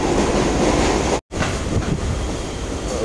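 A local train carriage from Sealdah to Dankuni rumbles steadily along the rails with a loud, continuous roar, briefly cutting out for a moment before resuming.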